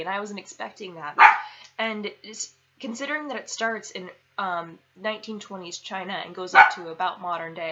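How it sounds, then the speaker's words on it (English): A pet dog barks a couple of short, sharp times in the background of a room while a person speaks continuously over it. "that's my dog barking in the background."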